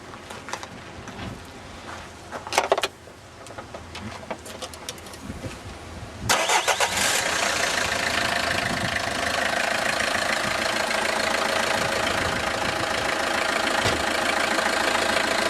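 Quiet mechanical clicks and rustling, then a Peugeot 2.0 HDI diesel engine with an add-on tuning box cranks and fires up, settling into a loud, steady idle close by.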